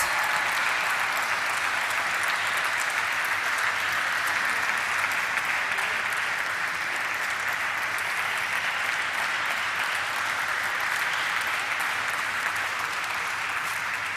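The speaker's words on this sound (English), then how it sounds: "So let us have a resounding of claps." Audience applause at a stock exchange listing ceremony for a finance company: sustained, even clapping from a sizeable crowd that carries on at a steady level for the whole stretch, with no talk over it.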